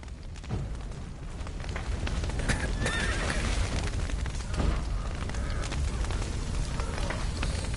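Horses whinny and neigh amid clip-clopping hooves and a busy, rumbling backdrop in The Witcher 3 video game, with the sounds continuous and fairly close.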